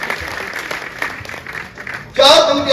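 An audience at a Hindi kavi sammelan poetry recital claps in a dense patter of applause for about two seconds, then a voice takes over loudly as the clapping fades beneath him.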